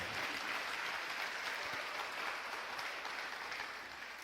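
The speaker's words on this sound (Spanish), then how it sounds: "Denle un aplauso a Cristo." A church congregation applauds during a sermon. The clapping forms a faint, distant wash that holds steady and tapers slightly toward the end.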